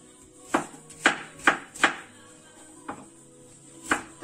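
Knife chopping onion into small dice on a board: sharp, close taps in a quick burst of four, then a pause and two more spaced cuts, with no talking.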